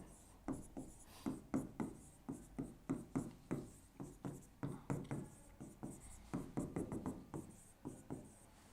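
Chalk or marker strokes on a board as a binomial expansion is written out during a math lesson, a steady run of short, close tapping and scraping strokes with brief pauses, no talking.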